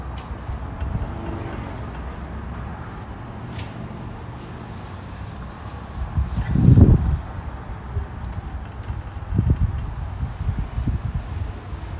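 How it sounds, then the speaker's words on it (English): Steady low rumbling wind noise buffets the microphone, with a louder gust around the middle and scattered bursts toward the end; no voices. "It is pretty windy tonight."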